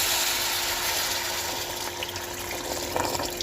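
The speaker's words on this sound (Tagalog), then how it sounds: "O, lagyan na natin po siya ng tubig" Water pours steadily into a pot of lamb ribs for boiling, a continuous close splashing rush that holds throughout and eases slightly toward the end, with no talk.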